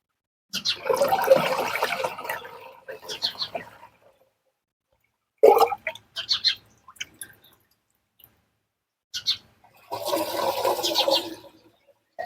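Liquid cow-based preparation poured into a homemade organic spray mixture for a cumin crop, heard as several gurgling, splashing pours of a few seconds each with pauses of silence between them, close by.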